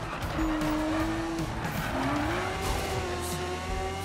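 A car races in the Need for Speed 2015 video game: a loud, steady engine drone with rising tones as it accelerates and tire squeals under it, continuous throughout with no talk.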